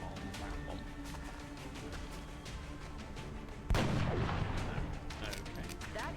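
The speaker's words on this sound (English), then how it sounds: "what we're going to do is attempt a headshot on that one" A heavy sniper shot from XCOM: Enemy Unknown, one sharp booming report midway with a long rumbling tail, over continuous low game noise and faint talk.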